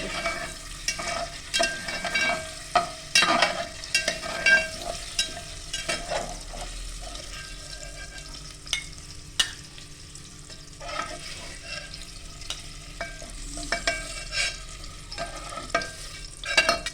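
Capsicum, tomato, onion, carrot, green beans and paneer sauté in a pan, with a steady close sizzle and frequent scraping, clattering stirs of a spoon against the metal.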